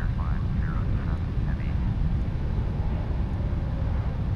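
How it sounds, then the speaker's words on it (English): Jet engine roar of an airplane taking off in the Prepar3D flight simulator, a steady low rumble filling the background with brief higher tonal whines near the start. "Also, another airplane is taking off. Beautiful sounds."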